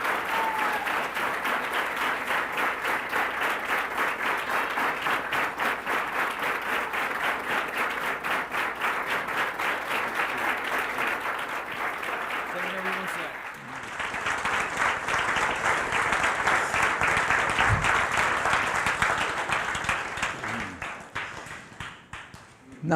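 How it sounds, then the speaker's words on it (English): Loud, sustained audience applause fills a youth rally hall in welcome of a missionary speaker, a dense wash of clapping that briefly dips midway and then swells again before fading out. "I'd like you to welcome with a round of applause"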